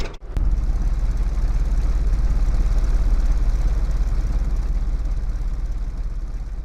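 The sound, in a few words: custom car exhaust rumble in video game L.A. Rush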